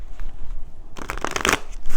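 Tarot cards being shuffled by hand, a quiet pause followed by a burst of crisp riffling and flapping card sounds up close, with no talking.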